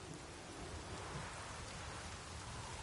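Heavy rain pours steadily in The Witcher 3, a dense, continuous wash of loud downpour with no breaks.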